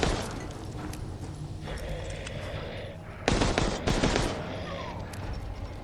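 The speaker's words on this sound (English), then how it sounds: "So we're just gonna blind fire." Bursts of rapid gunfire ring out from blind firing in the video game Resident Evil Resistance, with rattling shots over a busy game soundscape and a loud, dense volley in the middle.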